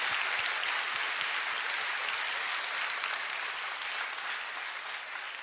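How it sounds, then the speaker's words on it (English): Audience applause for Dr. Mahathir Mohamad after a lecture: a steady, even wash of clapping from a large crowd, heard from a distance and fading slightly toward the end. "I think Dr. Mahathir deserves a round of applause"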